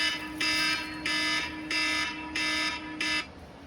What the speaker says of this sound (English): That's my 5 o'clock alarm.